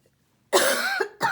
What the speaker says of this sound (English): I do apologise for coughing.